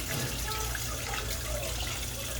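Tap water runs steadily over boiled eggs as they are peeled, a continuous close hiss of flowing water filling the whole moment.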